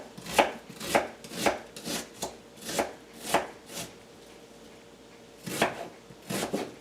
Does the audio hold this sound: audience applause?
no